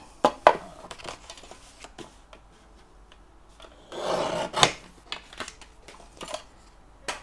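Scrap paper being cut for a craft embellishment, with sharp scissor snips and rasping slides of paper, scattered irregular bursts separated by quiet pauses, close and fairly soft.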